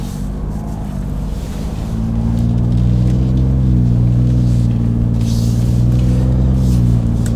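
A Ford F-150's 5.0L V8 idles through a 3-inch single-exit cat-back exhaust with no resonator, a deep, steady rumble, then swells louder and holds a low, throaty drone; no talking.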